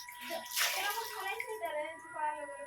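Water pours out with a brief splash and a trickle close by, under a voice talking.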